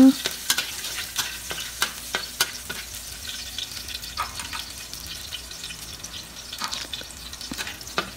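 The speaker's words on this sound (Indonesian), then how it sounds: "kita panaskan minyak kita tumis bawang putih sedikit lalu kita orak-arik sampai harum baunya" Garlic stir-fried in hot oil in a wok, sizzling steadily while a spatula scrapes and tosses it in frequent close strokes.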